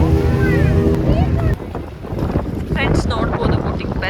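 Strong wind gusts roar across the microphone at a dam as wind and rain begin, a loud continuous rush with a brief dip midway, while a person talks over it.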